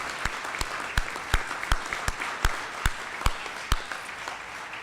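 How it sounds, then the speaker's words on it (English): Applause for Senator Richard Roth at a 2017 MPP hooding ceremony, steady crowd clapping throughout with sharper individual claps standing out at a regular pace, moderately distant and without talk. "I actually want him to have a round of applause"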